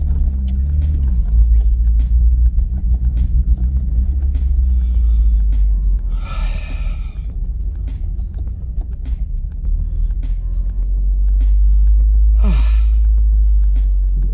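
A Citroën ZX car engine runs steadily with a heavy low rumble throughout, close and loud, while the small hatchback struggles along on low fuel; a brief breathy vocal sound rises over it partway through.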